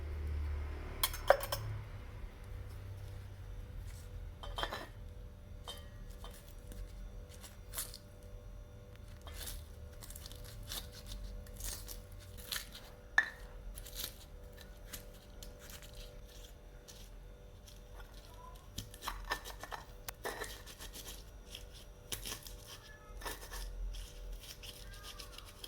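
Chilies, garlic and shallots being mashed for Indonesian eggplant balado, heard as repeated grinding and rubbing strokes with occasional sharp knocks, close and fairly quiet, with no talking.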